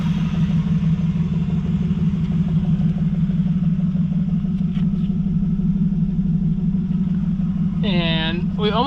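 A BMW E36 convertible engine runs at a steady, loud idle with a deep even drone throughout, and a brief chirping squeal near the end.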